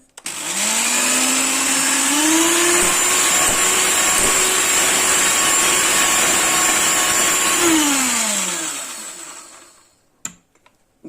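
An electric mixer whirs steadily for about ten seconds, whipping a cheese casserole mixture, pitch shifting as it speeds up and slows, then cuts off with a couple of clinks.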